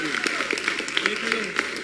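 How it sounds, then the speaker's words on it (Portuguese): A church congregation applauding Jesus during a worship service, a brisk wash of many hands clapping at moderate loudness with a voice speaking over it. "Você pode aplaudir a Jesus,"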